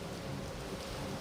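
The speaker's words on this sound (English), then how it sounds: "Rain is so fucking loud in this game." Heavy rain pours steadily in the Soul Reaver 2 video game, a dense, continuous hiss of downpour with no breaks, loud and enveloping throughout.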